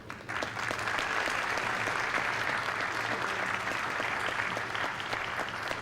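Sustained applause from an audience at a celebration and recognition event for educators, steady and even, with individual claps picked out against a broad hand-clapping wash and a faint low hum underneath.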